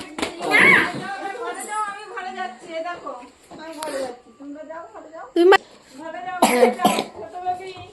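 A child coughs in a few sharp bursts spread through the clip, mixed in with people talking nearby.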